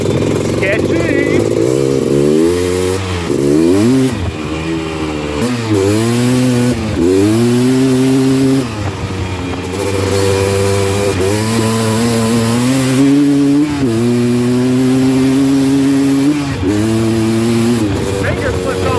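A Honda TRX330R ATV engine revs loudly and close throughout a ride, its pitch climbing and dropping repeatedly as the throttle opens and closes, with brief dips in between.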